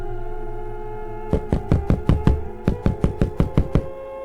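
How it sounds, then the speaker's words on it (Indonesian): Loud, hard knocking on a door: a rapid series of about a dozen heavy thuds in two quick runs, close and dominant over a steady low background hum, with no talking. "Suara ketukan pintu terdengar amat kencang."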